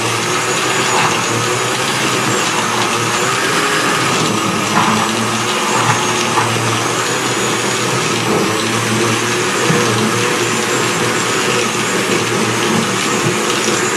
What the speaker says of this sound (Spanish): Vamos a llevar a la licuadora para ahorita acabar de incorporar lo demás.